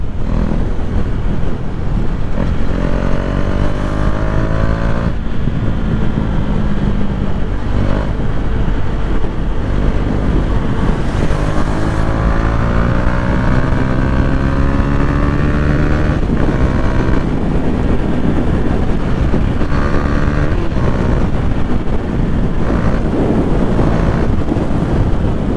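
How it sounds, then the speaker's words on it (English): A KTM Duke 390 with a Termignoni exhaust pulls through the gears while ridden, its engine note repeatedly rising and shifting under heavy, constant wind buffeting. "the exhaust is cool, man. It's not irritatingly loud, but it's loud enough"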